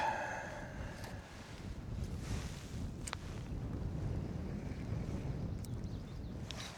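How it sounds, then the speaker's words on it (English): Wind blows outdoors during a fishing trip, buffeting the microphone with a steady low rumble and rushing noise, plus a few faint, brief clicks. "Man, this wind."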